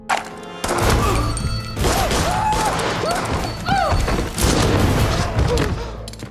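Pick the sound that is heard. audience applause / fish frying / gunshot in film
gunshot in film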